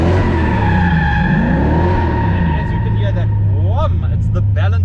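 A drifting car's engine drones loudly with rising and falling pitch as tires skid and squeal in short chirps toward the end.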